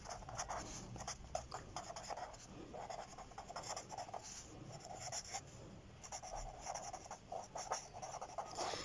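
Pen scratches on paper in short bursts of strokes with brief pauses, quiet and close, as a benzene molecular formula is written out by hand.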